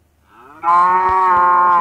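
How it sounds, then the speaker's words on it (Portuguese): A Minecraft cow lets out a single loud, drawn-out moo that rises in and holds steady, close and clear with no talk over it. "também tem a vaca"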